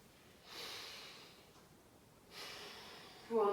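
Slow, audible breaths during a gentle yoga flow: two long airy exhales a couple of seconds apart, soft and close, with a faint sharper intake at the end.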